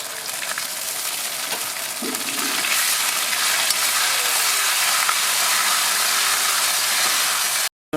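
Garlic and ginger paste frying in oil in a pan for a chilli baby corn dish, a steady close sizzle with broad hiss that swells slightly after a couple of seconds and cuts off abruptly near the end.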